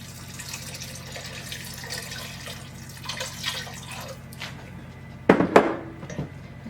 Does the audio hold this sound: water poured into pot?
yes